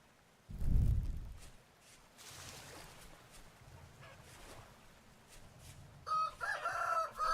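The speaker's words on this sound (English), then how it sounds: "Chickens!" Chickens in the Vintage Story video game cluck and a rooster crows, a loud crow near the start followed by softer clucking and rustling, with brighter chirpy calls toward the end.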